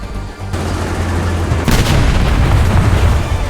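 A World War I Char 2C heavy tank's cannon fires and scores a hit in the War Thunder video game, heard as a loud, booming burst that rises into a sustained roar of rumbling battle noise.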